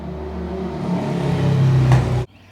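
A motor vehicle engine hums and swells nearby on a city street, growing louder and then cutting off abruptly.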